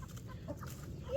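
A rooster outdoors gives soft, low clucks under quiet background noise, with a brief higher squawk near the end.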